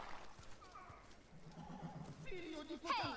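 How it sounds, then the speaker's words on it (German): A horse in the video game Assassin's Creed 2 whinnies amid hoof clip-clop and game sounds, with a voice talking over it. "Oh, hier wäre ein Pferd gewesen."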